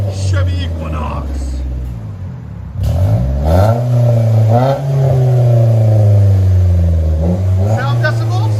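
A 2010 Chevy Equinox with a 2.4L engine and DTM muffler revs loudly up close, idling, then rising and falling through several hard throttle blips with a deep droning exhaust tone.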